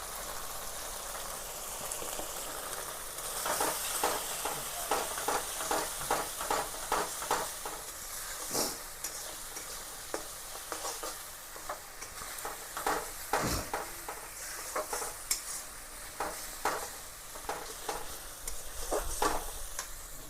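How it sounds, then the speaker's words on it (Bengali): Ground spices (turmeric, Kashmiri chili powder and salt) frying in hot oil, with a steady soft sizzle and repeated scraping stirs of a spoon against the pan, fairly quiet and without talk. "তো মোটামুটি তেল ছেড়ে গেছে, এর মধ্যে দিয়ে দিব গুঁড়ো মশলা, হলুদ, কাশ্মীরি লঙ্কার গুঁড়ো এবং লবণ"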